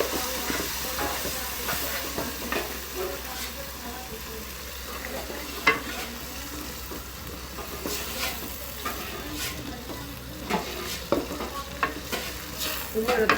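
Blended jackfruit seed paste bubbles and sizzles softly in a pan while a spoon stirs it, making scattered scraping taps against the pan over a low steady hiss; fairly quiet and close, with no speech.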